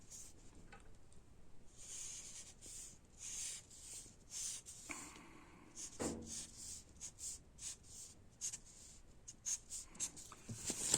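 A pen or pencil sketching an I Ching hexagram with a drawing aid, soft scratchy strokes and short rubbing bursts coming one after another, close and quiet.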